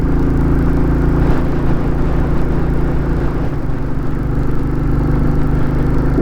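A Royal Enfield Classic 350 motorcycle labours up a hill in South Yorkshire, its engine a loud, steady, close-up drone with heavy low rumble and constant wind noise throughout.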